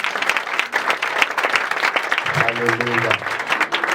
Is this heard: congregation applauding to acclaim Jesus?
yes